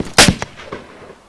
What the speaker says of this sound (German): Zwei verschiedene Schüsse